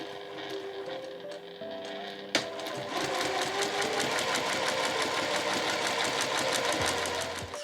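A household sewing machine stitches a two-tone tote bag, running in a fast, steady mechanical patter after a brief start-up clunk, loud and close with no talk.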